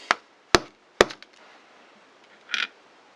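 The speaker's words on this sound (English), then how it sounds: "it kind of looks like we're going to have to give it a tap" Someone taps a Vauxhall Combo van's windscreen wiper motor to work it loose: three sharp, close knocks about half a second apart, then a lighter click and a softer scraping rattle.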